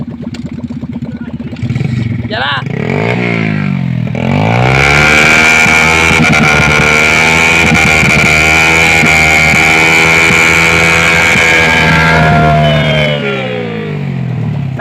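A Yamaha MT-09 big bike is revved hard close by. Its engine climbs from idle into a loud, sustained, rising roar that holds high for several seconds before dropping back down. A short spoken remark comes early on.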